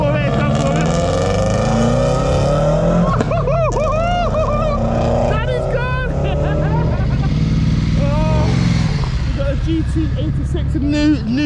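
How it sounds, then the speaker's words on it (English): A Toyota GT86 drives a lap of a race track, its engine roaring loudly and continuously, with shifting pitch and other cars audible throughout; voices can be heard over the noise. "New GT86 going."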